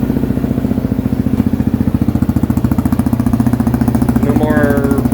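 An X-PRO Hawk DLX 250 EFI enduro dirt bike engine idles close by with a steady, rapid single-cylinder putter and an even rhythmic pulse throughout.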